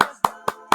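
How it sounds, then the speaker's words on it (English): A lone man claps slowly in a room, four sharp, evenly spaced hand claps about a quarter second apart, each ringing briefly with a little room echo. "the one lonely man in the room is applauding you"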